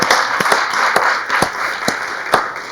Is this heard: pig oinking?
no